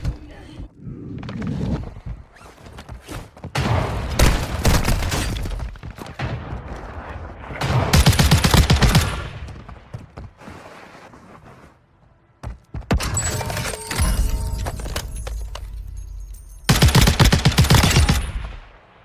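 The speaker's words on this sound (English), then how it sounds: "Oh my god, they're shooting me." Bursts of gunfire in Warzone Mobile, rapid automatic volleys aimed at the player, arriving in several loud clusters with brief quieter gaps between them.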